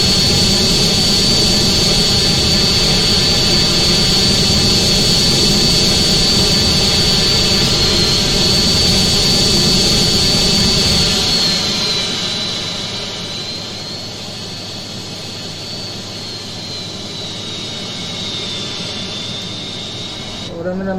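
A plane's engine drones loudly and continuously during stunt flying in GTA San Andreas, then drops to a quieter, thinner hum partway through.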